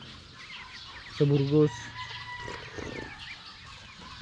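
Ducks at a duck farm in Burgos give a loud, brief honking call near the microphone amid faint background squawks, while a voice speaks briefly.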